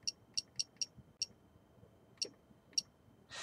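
Keys tapped on an Ingenico iSMP4 payment terminal keypad while entering a WiFi password: eight short, high electronic beeps in an uneven rhythm, quiet and close, then a brief rush of noise.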